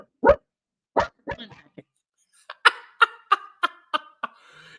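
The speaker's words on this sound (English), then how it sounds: "my dog's barking" A dog barks indoors, two sharp single barks followed by a quicker run of six or seven barks, moderately close and alone without talk.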